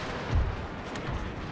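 Cannon artillery fire on a Napoleon: Total War battlefield, a couple of deep muffled booms a short way off with low rumble between.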